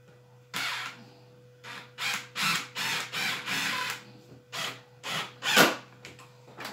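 A DeWalt 12 volt impact driver sinks 1⅝ inch screws in a rapid series of short bursts, about ten of them, each a close, rattling hammer-whir separated by brief pauses, over a low steady hum.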